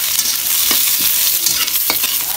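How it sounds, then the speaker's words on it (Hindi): Leftover cooked rice stir-frying in hot oil gives a loud, continuous sizzle close by, with a few spatula scrapes and knocks against the pan. "चावल के फ्राई हो रहा है"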